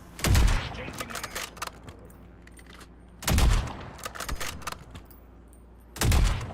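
Three heavy sniper shots boom at roughly three-second intervals in the video game Call of Duty Warzone, each a loud close crack with a rumbling tail, separated by quieter clatter and faint game noise.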